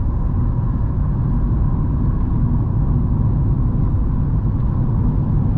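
Falken tires rolling on cold asphalt under a Renault Megane 3 Business HB 110 HP, a steady low road rumble heard from inside the cabin, continuous and even with no voices.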